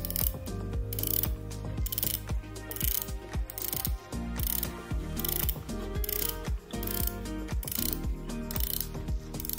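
A unidirectional aluminium-insert watch bezel on a Charlie Paris Concordia being turned, rapid rows of crisp ratcheting clicks in quick bursts, very close and loud.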